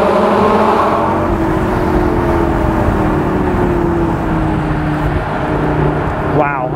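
A 2012 Lamborghini Gallardo LP560-4 engine drones loudly and continuously under throttle from inside the car, its pitch sliding slowly, with a brief whir near the end.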